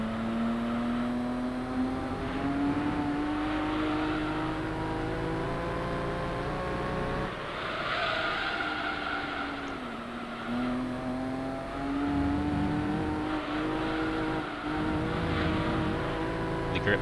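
A Nismo GT-R race car in Gran Turismo 3 drones loudly lap after lap, its engine pitch rising through the gears, dropping on braking, and climbing again over a continuous stretch.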